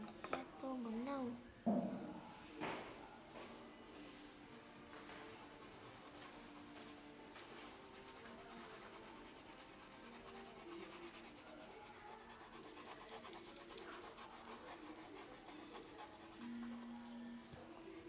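Crayon or colored pencil rubs on paper while a drawing of mountains is colored in brown, a faint, steady scratchy rasp that goes on throughout, with a few brief louder strokes near the start.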